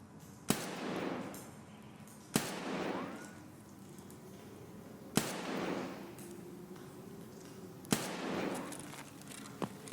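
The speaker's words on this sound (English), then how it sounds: "Let's shoot another target" Four sharp rifle shots from the Escape from Tarkov shooter game ring out at spaced intervals during target practice, each a loud crack followed by a decaying echo over a quiet background.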